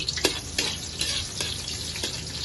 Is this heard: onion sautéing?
yes